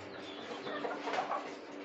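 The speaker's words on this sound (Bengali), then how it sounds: "দেখেন কত চমৎকার একটা মুরগি" A desi hen on a poultry farm clucks faintly in a few soft, low calls over quiet background noise.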